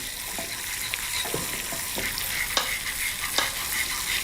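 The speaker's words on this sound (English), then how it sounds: "Just start to whisk the butter in." Butter is whisked into hot caramel in a pan, a steady soft sizzle with light scraping strokes and a few sharper taps of the whisk, close by with no talking.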